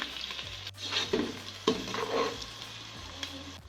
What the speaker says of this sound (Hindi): 2 अदद मीडियम साइज़ की प्याज बारीक चॉप की हुई वो भी इसमें डालकर हल्का फ्राई कर लें।